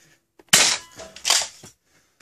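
A JT Splatmaster Z100 spring-powered toy gun fires twice in quick succession, each a sharp, close, hissing crack with a short tail, in otherwise quiet surroundings.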